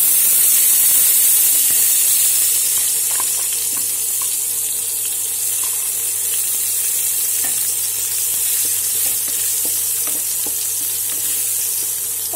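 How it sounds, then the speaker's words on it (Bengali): Spring roll filling with garlic frying and being stirred in a hot pan, a steady close sizzle with faint scraping and clinks throughout, no voices. "ওটাকে একটু নাড়িয়ে দেবো। এরপর আমরা ওতে রসুন দিয়ে দেবো।"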